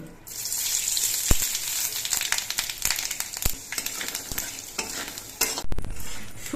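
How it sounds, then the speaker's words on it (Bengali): Dried red chillies and panch phoron frying in mustard oil in a wok, a steady close sizzle broken by sharp spoon scrapes and clinks against the metal. "কড়াইতে আর একটুখানি সর্ষের তেল দিচ্ছি তেলের মধ্যে দিচ্ছি দুটো শুকনো লঙ্কা আর অল্প করে একটু পাঁচ ফোড়ন"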